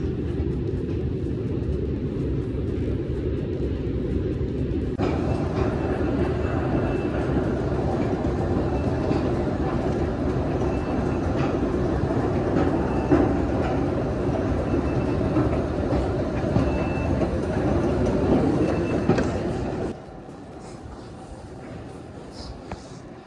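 A Helsinki metro train runs with a loud, steady rumble and rolling roar that swells as it moves through the station, then drops abruptly to a quieter hum near the end.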